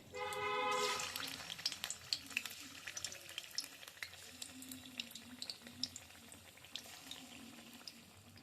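Gokul pitha, Bengali rice cakes, fry in a wok, producing a faint, crackly sizzle with scattered pops and bubbling, preceded by a short burst of louder pouring or hissing at the start.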